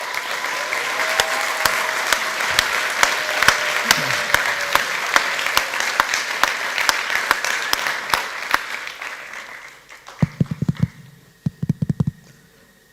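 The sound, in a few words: audience applause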